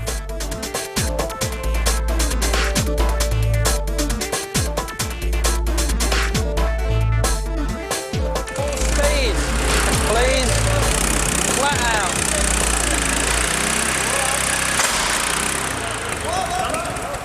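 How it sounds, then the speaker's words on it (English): Foggy's FP1 racing motorbike at Brands Hatch runs with a rough, lumpy engine note broken by sharp popping backfires early on, then settles into a busier, rising mechanical roar. "That was a massive backfire."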